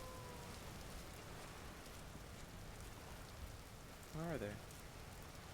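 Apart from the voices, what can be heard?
rain falling in the video game Vintage Story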